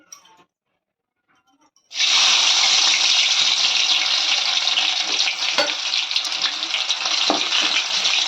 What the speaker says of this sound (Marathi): आता त्याच्यामध्ये हे लसणीच्या फोडी टाकणार आहे